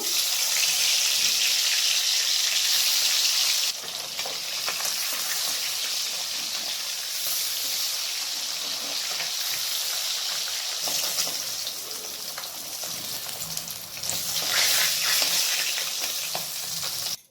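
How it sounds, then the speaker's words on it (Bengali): The remaining rui fish pieces fry in hot oil, producing a continuous close sizzle with louder bursts of spattering near the start and again toward the end. "এরপর আমি বাকি মাছগুলোকে ভেজে নেব।"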